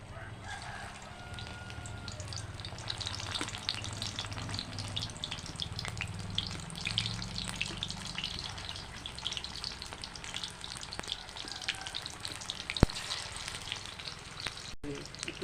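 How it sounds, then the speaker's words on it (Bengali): Banana flower fritters frying in oil give a continuous dense sizzle up close, with a rooster crowing faintly in the background. "এরকমভাবে ভাজবা লাল লাল করে"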